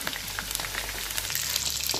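Pinuneg, a Cordilleran blood sausage, frying in oil. A close, dense crackle of popping and spitting fat runs continuously with no talking.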